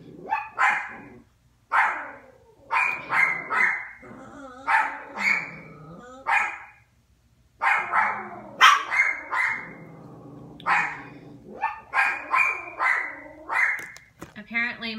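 Several dogs bark repeatedly in short, loud bursts and clusters, close by, with brief gaps between volleys and a quick hush at the end.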